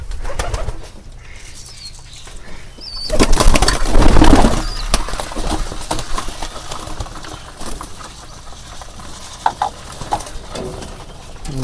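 Pigeons at a house loft being fed, soft cooing mixed with a loud burst of wing flapping midway, then scattered flutters and shuffling close by.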